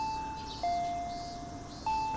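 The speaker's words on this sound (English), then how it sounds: "I heard the doorbell ringing." A doorbell in the Higurashi visual novel game rings with sustained electronic chime tones, sounding twice in clear separate presses against a quiet background.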